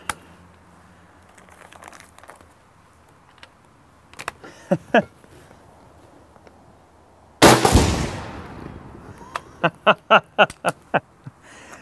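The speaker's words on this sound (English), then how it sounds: "I just got a couple of propane bottles left." Propane bottles are shot with a powerful PCP air rifle, heard as scattered sharp pops and cracks followed by one loud, roaring burst that dies away into a rapid run of crackling bangs outdoors.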